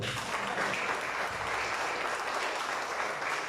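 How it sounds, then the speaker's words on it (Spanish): A congregation applauds during a church service, a full, continuous burst of many hands clapping at steady loudness throughout, with faint voices mixed beneath. "Un aplauso para hermana Perla, por favor."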